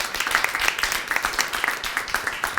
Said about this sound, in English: big round of applause for Dix.